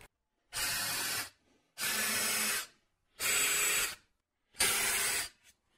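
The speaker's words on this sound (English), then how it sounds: "I'm going to use a countersink to chamfer the edge of the hole." A drill with a countersink bit chamfers holes for flathead drywall screws in four even, close bursts of roughly one second each, separated by short silences.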